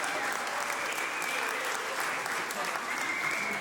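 Steady applause from an audience at a launch event, continuous clapping at an even level throughout with no breaks or voices standing out.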